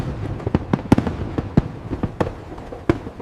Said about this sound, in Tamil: என்ன அழகான பட்டாசுகள்!